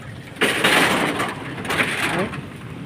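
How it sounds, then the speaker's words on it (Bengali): Floodwater after heavy rain rushes along a road in a loud, close, hissing broadband surge that swells abruptly, eases briefly, then surges again. "দেখুন পানির স্রোতটা দেখুন, কিভাবে পানির স্রোত রাস্তার উপর দিয়ে যাইতেছে"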